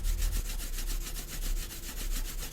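Broom sweeping in the horror game Five Nights at Shrek's Hotel, a continuous close rhythmic scraping with steady repeated strokes under a low rumbling background, no talk.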